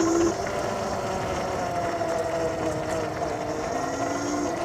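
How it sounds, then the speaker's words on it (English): The motor of an Xpro Drax X Pro 72V electric motorbike whines at full throttle, a rising electric tone over steady wind and road rush, heard close with no talk. "I bet you guys can hear the motor whining when I rip it"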